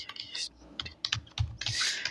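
Keys clatter on a computer keyboard while a district name is typed into an HDFC Bank form, with irregular bursts of close, crisp keystrokes separated by short gaps and no talking.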